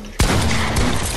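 Gunfire in a video game shooter, one sharp loud burst followed by a brief rattling volley that fades, with no talking over it.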